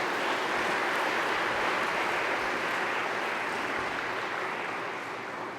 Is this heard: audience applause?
yes